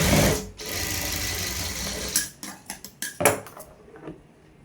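A sewing machine stitches fabric at a tailoring table, running in a loud steady whir for about two seconds, then breaking into short bursts and clicks as the cloth is repositioned.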